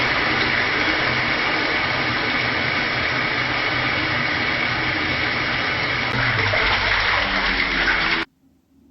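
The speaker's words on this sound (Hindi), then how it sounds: "साथ ही मैंने स्वीट कॉर्न को भी वॉश कर लूँगी" Sweet corn is washed under a running tap, a loud, steady gush of water splashing for about eight seconds before cutting off abruptly.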